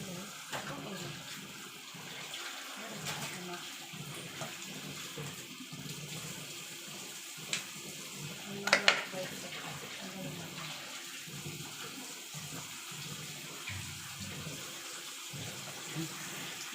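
Tap water runs steadily over pork innards in a sink as they are washed. A continuous close gush plays throughout, with a few small knocks and splashes mid-way.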